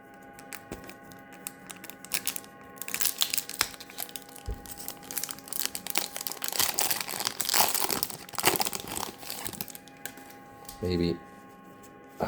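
Pokérev 6.0 trading card booster pack wrappers crinkle and tear open close up, in bursts of plastic crackle and rustle across several seconds, with a short thud near the end.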